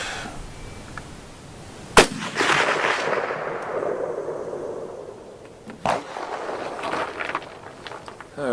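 Gunshots from a Romanian M56 SKS rifle fired at 240 yards outdoors, two sharp cracks a few seconds apart, each followed by a long rumbling echo over steady background noise.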